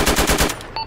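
Rapid automatic gunfire in Arma during a ShackTac urban firefight near a school building: one loud, close burst of about five rattling shots that cuts off abruptly, followed by a brief electronic tone.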